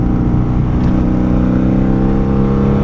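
A 1995 Honda Magna VF750C cruiser motorcycle engine drones steadily while being ridden, a loud, continuous low rumble with layered harmonic tones and no pauses, close and unbroken for the whole stretch.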